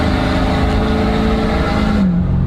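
A diesel truck with a DPF delete and 150 horsepower tune accelerates hard from a rolling start, its engine a loud, close, rising drone that climbs steadily in pitch, then drops suddenly near the end as it shifts.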